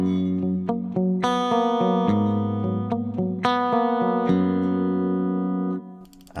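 Bright, clean electric guitar notes and chords through a Fractal Audio Axe FX III, in an 80s tone, ring out with a shimmering, sparkly top end, played steadily with sustained tones.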